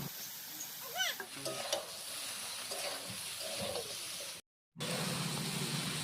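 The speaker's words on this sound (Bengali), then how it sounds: "সবজিগুলো মোটামুটি ভাজা হয়ে গেছে" Vegetables and ridge gourd fry in a hot wok and are stirred, a soft continuous sizzle broken by scraping stirs, with a brief silent gap before the frying resumes.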